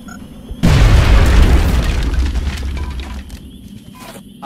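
A grenade explodes on a farm map in XCOM Enemy Within, one sudden loud boom followed by a deep rumble that slowly fades over a few seconds.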